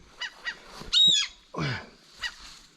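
Gulls nesting near a river give a series of short, harsh honking calls, several separate cries spaced irregularly, fairly close and clear against a quiet background.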